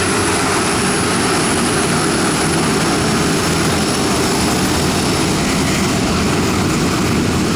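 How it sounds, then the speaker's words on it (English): A cargo plane passes overhead near an airport ramp during a Boeing 737 walkaround, producing a loud, steady broadband engine roar with a high whine that holds for the whole stretch and has no talk over it. "Oh, someone is flying. Oh, it's a cargo."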